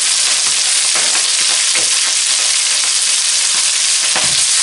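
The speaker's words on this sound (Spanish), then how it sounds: "Vamos a ir moviendo y se vaya cocinando." Kale stir-frying in a wok, a loud steady sizzle with faint clinks and scrapes as the leaves are moved around, continuing without pause.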